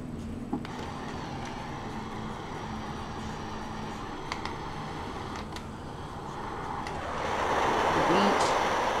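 A battery-operated baby travel noise soother plays a beach sound, a steady hiss with faint clicks that swells into a louder rush of surf-like noise near the end.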